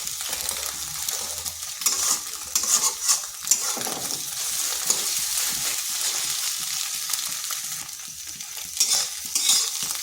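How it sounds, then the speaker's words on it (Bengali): An egg fries in oil in a kadai for a quick egg bhujia, with a steady close sizzle under intermittent scraping and stirring of a spatula against the pan. Nobody speaks. "ডিমটা ভাজা হয়ে গেছে, এরপর তুলে নিচ্ছি।"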